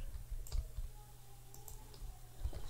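Fresh computer keyboard and new mouse clicking during a Roblox game, a few crisp quiet clicks spaced out across a faint steady background hum, with no talking.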